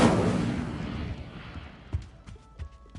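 In Hogwarts Legacy, the Incendio fire spell is cast with a loud whooshing burst that fades over about a second and a half, followed by a few sharp crackling hits and small pops.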